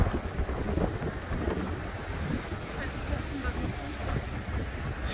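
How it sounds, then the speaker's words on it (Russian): A harsh blizzard sweeps a central city avenue in Karaganda, with gusting wind roaring and buffeting the microphone in an uneven, continuous rush. "Суровый буран."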